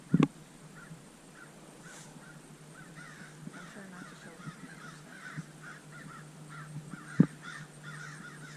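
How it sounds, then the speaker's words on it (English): Crows caw repeatedly in the background of a quiet neighborhood, a steady series of short harsh calls at moderate distance, with a couple of louder knocks and brief talk near the start. "a lot of crows in the background."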